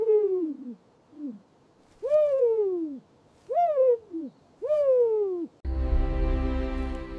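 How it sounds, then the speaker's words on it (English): A screech owl repeats a series of wavering, descending hoots, four or five calls close and distinct, before a dense buzzing tone takes over at the end. "A screech owl with glowing eyes flew round her 3 times."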